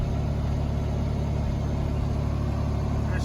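A John Deere 4430 tractor engine runs steadily at a close, even idle, a constant low mechanical hum and rumble with no change in pace throughout.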